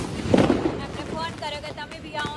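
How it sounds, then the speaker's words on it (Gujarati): Distant firecrackers burst during Diwali celebrations, with a couple of muffled pops and thuds behind nearby chatter and voices. "જો કેટલા લોકો અહીંયા ફટાકડા ફોડે છે પાછળ તમને અવાજ સંભળાતો જ હશે"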